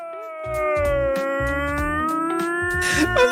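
A human voice imitates something between a police siren and a beached seal: one loud, sustained, wavering moan that slowly slides in pitch, heard alone.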